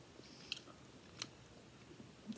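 Soft, close chewing of a tequila worm, with a few faint wet bites and crunches spread irregularly over a couple of seconds in otherwise quiet surroundings.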